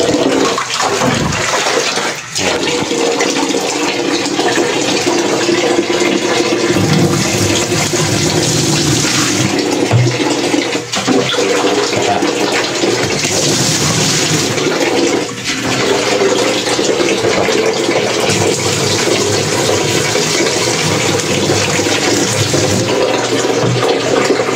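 Eureka washing machine, just reinstalled after a drain problem, filling with water: a loud continuous rushing hiss of inflowing water that runs throughout, with a few clunks and brief thumps along the way.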